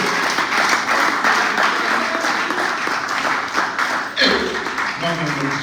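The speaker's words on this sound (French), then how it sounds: "Acclamez pour le Seigneur." A church congregation breaks into sustained applause during a sermon, many hands clapping in a dense wash that runs for several seconds before fading as a voice comes in near the end.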